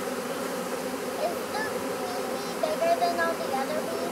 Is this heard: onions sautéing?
no